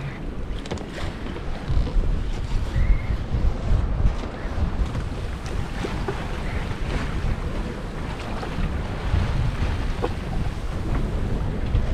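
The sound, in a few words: strong wind at sea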